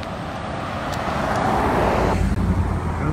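A car drives past near a horse pen outdoors, its tyre and engine noise swelling to a loud close pass and then easing off, with no talk.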